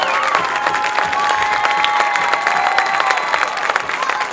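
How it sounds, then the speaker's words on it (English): A large crowd at a high school band awards ceremony applauds and cheers, with dense, continuous clapping and scattered shouts and whoops. "Give a large round of applause for all the performances this evening"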